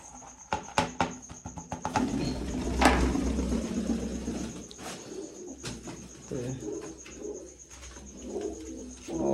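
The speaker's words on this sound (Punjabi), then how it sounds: "ਕਬੂਤਰ ਆਪਣੇ ਝਾੜ ਕਰਕੇ ਖੰਭੀ ਖੰਭ ਕਰਤੇ ਪਤੰਦਰਾਂ ਨੇ" Pigeons perched on a rooftop roost coo in low, throaty bursts, with a few sharp fluttering wingbeats and some faint background murmur.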